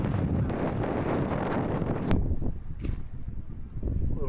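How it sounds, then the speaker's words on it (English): Strong gusty wind of about 20 miles per hour with gusts near 40 buffets the microphone outdoors, a loud, rough roar that dips briefly and then surges again. "the wind was blowing about 20 miles an hour that day, with gusts up to 40"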